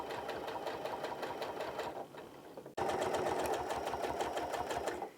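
A sewing machine runs steadily as it stitches along the edge of a tufted floor pillow, its rapid mechanical chatter loud and close. It stops briefly partway through, then starts again at the same pace.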